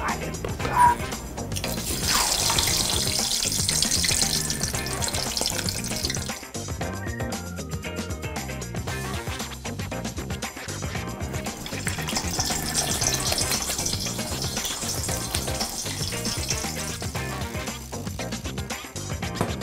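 Steady crackling sizzle of shrimp deep frying in hot oil, continuous and fairly close, with light clinks now and then and background music underneath.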